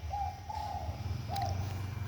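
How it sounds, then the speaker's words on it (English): A bird in the Vietnamese countryside gives soft, faint cooing calls, two drawn-out notes followed by a third after a short pause, against a low background rumble. "The bird is saying CoCo."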